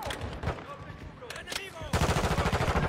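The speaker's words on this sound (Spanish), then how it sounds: "Esa madre te hace disparar solo, Rosa." Automatic gunfire in the Call of Duty MW2 beta on PC: muffled game sounds and quieter shots give way to a loud, fast, steady burst of weapon fire near the end.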